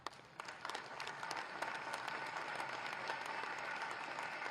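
Audience applause at the inauguration of a conference on circular economy and local climate action attended by a Chief Minister; soft, distant-sounding crowd clapping that swells after a moment and continues steadily.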